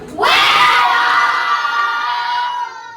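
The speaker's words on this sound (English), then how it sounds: "Very good scream" A group of children scream together at a Christmas elf town event, a loud sustained shriek rising sharply and holding for over two seconds before fading.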